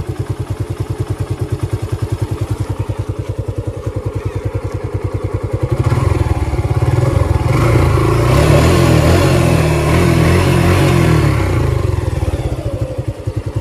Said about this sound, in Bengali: তো এটা হচ্ছে নর্মাল অবস্থাতে গাড়ির ইঞ্জিনের সাউন্ড।